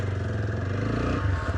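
A TVS Apache RTR 160 4V motorcycle pulling away in first gear, its engine giving a steady, close, continuous drone with a low rumble throughout, swelling slightly near the end.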